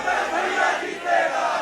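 Crowd at a Chhattisgarh election rally in Raipur Gramin chanting a slogan in unison, a dense continuous roar of many voices with a rising swell partway through.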